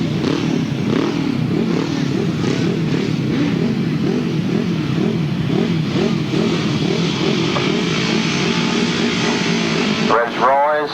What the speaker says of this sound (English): Revs rise.